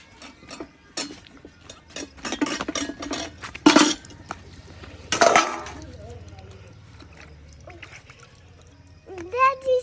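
Pots, pans and metal dishes clank and clatter in a village kitchen, with scattered clinks, two sharp loud crashes midway and some splashing of water, while people talk nearby.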